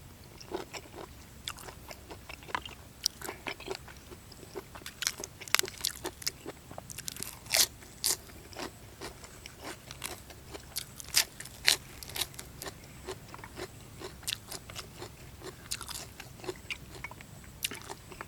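Crunchy snails are bitten and chewed up close, a steady run of sharp crackling crunches and wet chewing at a quiet level, with occasional murmurs in between.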